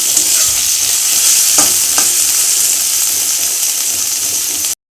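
Chopped onions frying with ginger and garlic in a wok, a loud continuous sizzle with a couple of brief utensil knocks, close and alone.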